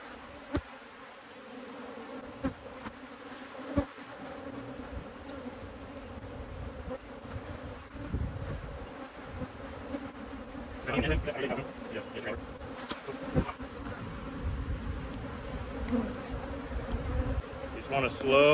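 Bees buzz around an open hive during a cut-out, a steady, dense drone with some louder passes close by, accompanied by faint handling noises of frames and boxes.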